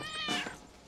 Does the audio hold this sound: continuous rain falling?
no